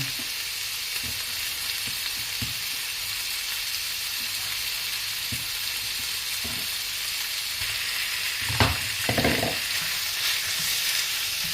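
Beef with carrots sizzles steadily in a hot pan, a constant close frying hiss broken by occasional scrapes and clacks of a spatula stirring the meat.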